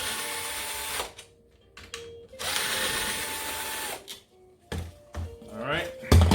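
A Kirby vacuum cleaner being refurbished as a part is worked off it, with bursts of mechanical whirring and grinding broken by pauses, clunks and a final thunk, under intermittent talk.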